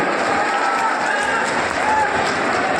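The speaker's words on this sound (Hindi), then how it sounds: "एक बार जोरदार तालियां बजनी चाहिए" Dense, continuous applause from a crowd welcoming the prime minister at an outdoor political rally in Motihari, loud and close, with voices mixed into the clapping.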